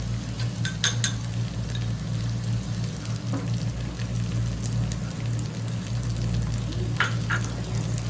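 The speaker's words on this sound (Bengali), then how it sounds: "দিয়ে আবার নাড়তে থাকবো এটাকে।" Crab frying in a pan with chili powder, turmeric and salt for a Bengali curry, giving a steady close sizzle with occasional stirring scrapes and clinks, no voices.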